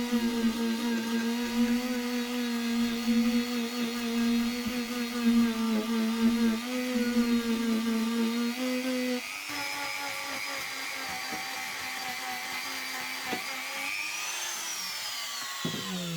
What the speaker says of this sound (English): I'm just going to finish off the polish with the Dremel.